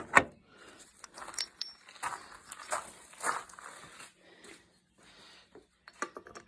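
Three long metal bolts from a Rover cylinder head, handled during a head gasket replacement: scattered close clinks, light metallic taps and rattles in short bursts with quiet gaps.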